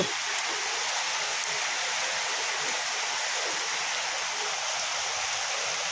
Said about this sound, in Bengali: বহু প্রতীক্ষিত বৃষ্টির অবশেষে দেখা পাওয়া গেল।